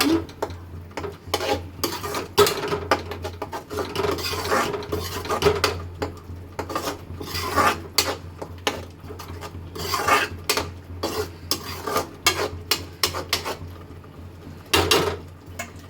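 Vegetable curry stirred in a cooking pot on a home stove, a spoon scraping and rasping against the metal in repeated close strokes, with steady low hum beneath and no talk.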